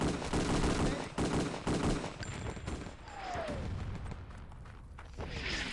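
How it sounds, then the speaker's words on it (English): Gunfire and heavy airstrike blasts in Wolfenstein: Enemy Territory crack in rapid bursts at first, followed by scattered booming hits and a rising whistle, fairly loud with no talking over them. "So those big shots coming from above, are those airstrikes, or what are those coming from?"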